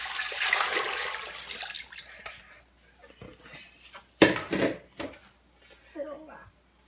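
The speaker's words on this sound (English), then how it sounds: "And then now I'm gonna add some water." Water rushes into a pot holding chicken and peeled ginger for Vietnamese chicken pho, a steady pour for about two seconds that tapers off, followed by a person talking with small clinks.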